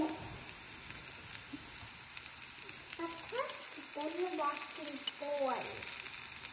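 Frying in a pan as chili powder goes in, a steady hissing sizzle underneath short squeaky scrapes and stirring sounds in the latter half, fairly quiet and close, with no speech.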